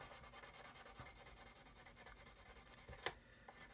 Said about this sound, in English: It's sanding.